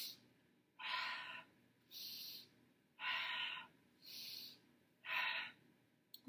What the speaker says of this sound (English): Taking these nice inhales and exhales nice and quick or as slow as needed.